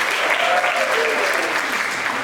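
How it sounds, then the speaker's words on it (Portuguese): Applause for Will, the guitarist of the trio on a Brazilian night-show stage, a dense steady wash of many hands clapping close and loud for the whole stretch, with faint voices and a thin tone beneath. "uma salva de palmas"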